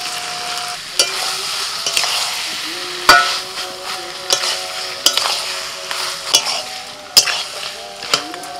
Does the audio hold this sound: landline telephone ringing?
no